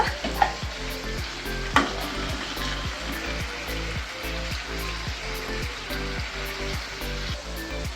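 Mint chutney ingredients with tamarind fry in a pan, giving a soft, steady sizzle with faint stirring scrapes and clinks.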